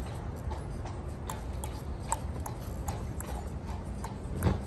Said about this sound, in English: Like, if you can hear this horse, Huey up here.